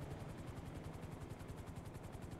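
Steady rhythmic thumping of helicopter rotor blades in Grand Theft Auto, continuous and fairly loud, with a dense mechanical whir underneath and no voices.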